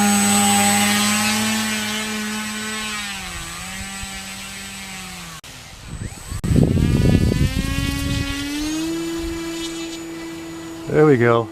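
An E-Flite Timber RC airplane's electric motor whines in a steady tone that rises and falls in pitch as it flies past, loud and near, with a burst of wind or handling noise midway.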